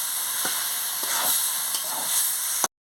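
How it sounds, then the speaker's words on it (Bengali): Boiled rice fries with spices in a pan, giving a loud, steady sizzle with a few soft scraping stirs, before cutting off abruptly. "আমি চাউলগুলোকে সিদ্ধ করে রেখেছিলাম দিয়ে দিচ্ছি মশলার সঙ্গে, দিয়ে ভালো করে মশলার সঙ্গে কষিয়ে নিচ্ছি।"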